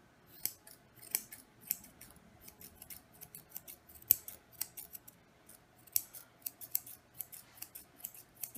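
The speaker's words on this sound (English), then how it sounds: "Just scissor that off to the side, and same thing over here." Scissors trim a dog's coat while the show trim on its haircut is being finished: a steady run of crisp, close snips with uneven rhythm and short gaps, heard alone with no talking.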